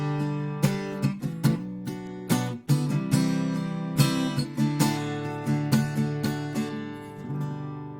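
Double-tracked guitar part layered over a stereo two-microphone recording, with the added take kept centered; plucked chords ring with clear rhythmic attacks, full and close, with no talking.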